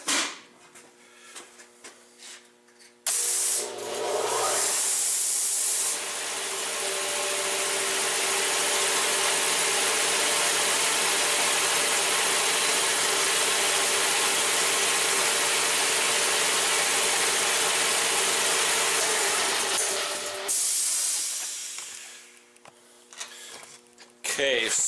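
A Quincy 325 air compressor's electric motor starts through a soft-start control: after some background noise a loud, dense mechanical roar sets in abruptly and runs steadily for about seventeen seconds, then cuts off, close up.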